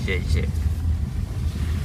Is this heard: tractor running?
yes